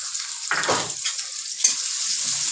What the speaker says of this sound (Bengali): পেঁয়াজ আমি কুচি করে নিয়েছি। পেঁয়াজটা ভেজে নেব